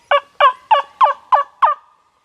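Wild turkey gobbling on the opening morning of turkey season on public land: six loud, evenly spaced gobbles in quick succession, fairly close and alone with no talk.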